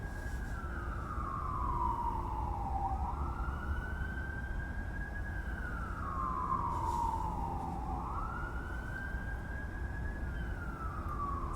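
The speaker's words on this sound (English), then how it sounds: "Snipping Barber _F says RO, I hear sirens, what did you do?" Emergency vehicle siren wailing in slow rising and falling sweeps, steady and moderately distant, over a low rumbling background with no voices.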